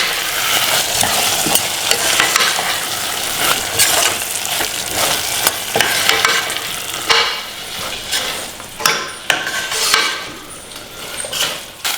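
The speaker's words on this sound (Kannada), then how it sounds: "ಸೊ ಈಗ ಇದನ್ನು ಮಿಕ್ಸ್ ಮಾಡೋಣ." Pumpkin halwa cooking with ghee in a pan, stirred continuously with a steady sizzle under repeated scraping and occasional utensil clinks, close and fairly loud.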